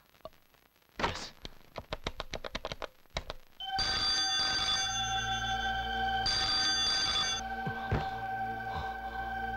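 A telephone bell rings loudly and steadily for several seconds indoors in a Tamil police action film scene, preceded by a few sharp knocks and thumps, with no talk over it.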